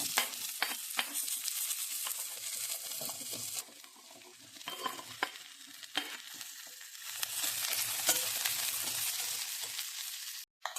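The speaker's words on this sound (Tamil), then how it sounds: "லேசாக எண்ணெயில் வறுத்து எடுத்துக்கோங்க" Steady crackling sizzle of ivy gourd lightly frying in oil, with occasional stirring clicks and scrapes, close and continuous throughout.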